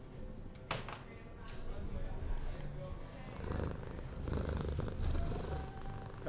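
Inside a cat pub, a cat purrs close up in a soft, rhythmic rumble that swells and fades with each breath, with faint background voices and occasional clicks.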